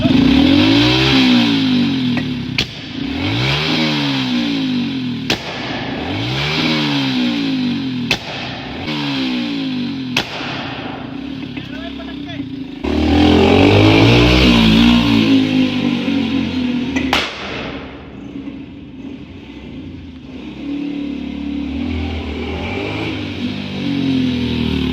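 A Hero Splendor motorcycle fitted with an RX100 silencer and run without a spark plug throws sharp, firecracker-like exhaust pops in bursts, with rising revs between the bangs and a rougher rumbling stretch midway, loud and close.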